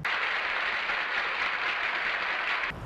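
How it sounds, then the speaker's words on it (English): Applause sound effect, a steady dense wash of clapping that holds at an even level for nearly three seconds and then cuts off abruptly. "Cue the applause."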